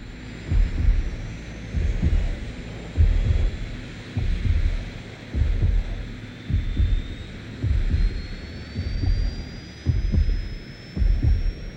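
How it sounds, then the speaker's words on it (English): A slow, throbbing heartbeat sound effect from the anime short Running Man pulses in regular double thumps, about a dozen beats over a faint high tonal hum, with no voices. "the first sound we hear in Running Man is Zack's heartbeat"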